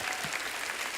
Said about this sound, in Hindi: जोरदार तालियां हो जाए हमारे मेहमानों के लिए